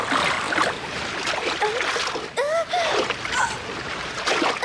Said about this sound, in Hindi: यहाँ पानी का बहाव काफी तेज है।